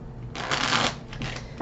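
Brisk riffling of a deck of tarot cards being shuffled, a soft papery rush that swells and fades in a couple of bursts, close by.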